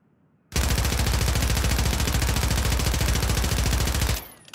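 Sustained automatic fire from an AMR 9 in a shooter video game, a rapid, even stream of loud shots lasting about three and a half seconds before stopping abruptly with a brief tail.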